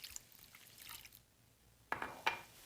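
Water is poured into a pot while a sausage and tomato dish is being cooked, with a few short splashing and trickling bursts separated by quiet pauses.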